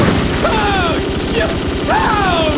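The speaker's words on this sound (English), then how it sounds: "heavy machine gun." Heavy machine gun fire from the Metal Slug arcade game sounds as a rapid, steady stream of loud shots, broken by short sweeping electronic effects.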